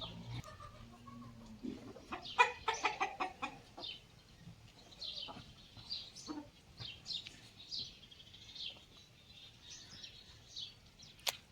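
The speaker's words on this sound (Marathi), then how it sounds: "हे आहेत माझ्या मम्मीच्या कोंबड्या" Chickens cluck and squawk close by in a burst of excited calls, then settle into softer, scattered clucking.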